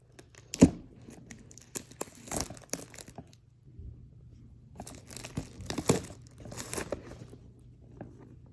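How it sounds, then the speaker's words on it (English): Plastic wrapping pulled off a D-Link WiFi water sensor, close crinkling and tearing rustles in several bursts with a quiet pause in the middle. "Take the plastic off."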